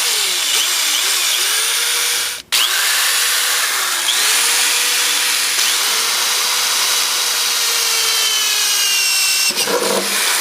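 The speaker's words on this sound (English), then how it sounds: "and get to drilling." A power drill bores holes to mount a car battery, a loud, steady high-pitched whine running almost continuously, with a brief stop and restart and a faint clunk near the end.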